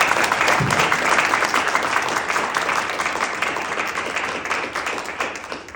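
An audience at a Target Zero bill signing speech breaks into loud, sustained applause, a dense wash of many hands clapping that holds steady throughout and then tapers slightly.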